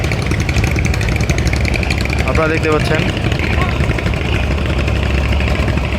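The Jamal 9 passenger launch leaves the Fatullah ghat at night bound for Borhanuddin, its engine a loud, constant rumbling drone throughout, with someone talking over it briefly.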